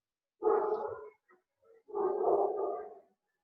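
A small dog lets out two drawn-out, whining barks a moment apart, close and fairly clear in an otherwise quiet room, with no speech.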